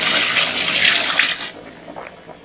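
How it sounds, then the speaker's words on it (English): Water poured into a pot of steaming fish pepper soup, a steady loud gushing stream for about a second and a half that then tapers off to softer trickles and splashes. "as it's steaming now, you can now put the water you want"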